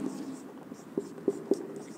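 Chalk or marker writes on a board during a chemistry lesson, a few soft scratching strokes and three distinct taps, close but faint over a low room hum.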